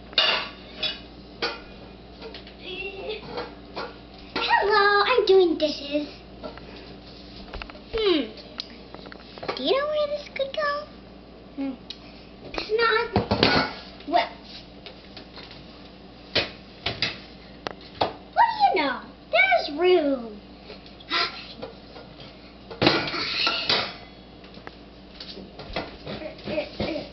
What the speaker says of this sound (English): I'm doing dishes.